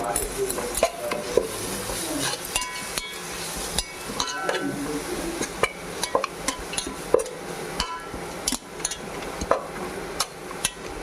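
Chicken pieces with salt and paste are stirred in a pan for Hyderabadi chicken biryani. Repeated scraping and clanking strokes of a spoon run over a soft sizzle, and a voice speaks in places.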